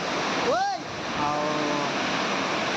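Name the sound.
waterfall in rainy season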